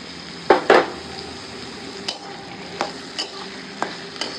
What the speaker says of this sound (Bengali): মাছের ডিম সব একসাথে সব ভেজে নেব